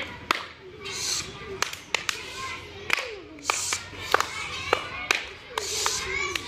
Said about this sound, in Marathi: आता जोरात टाळ्या वाजवा बरं।